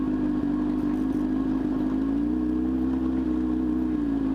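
Steady hum of an overheating Honda motorcycle engine running continuously, loud and close with an even drone and no clear revving.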